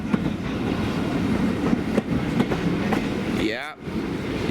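A passenger carriage rolls behind the LBSCR H2 Atlantic steam locomotive Beachy Head, crossing a viaduct into a station. Rumbling wheels click rhythmically on rail joints, with a brief squeal near the end and voices faintly under the noise.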